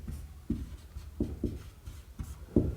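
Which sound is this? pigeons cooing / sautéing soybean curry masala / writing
writing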